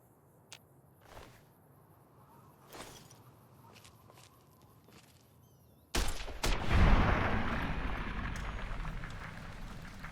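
Gunfire from shooting enemies in Fallout: New Vegas starts after quiet footsteps and scattered sharp clicks, then erupts into a loud, dense burst of shots that decays into a sustained rumble.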